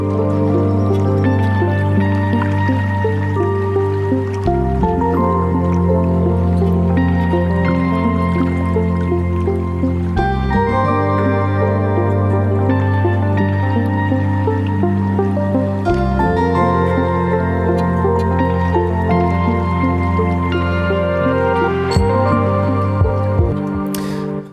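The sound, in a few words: music breakdown with layered synth leads and Rhodes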